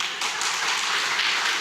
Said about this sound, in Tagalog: Kami palakpak kami.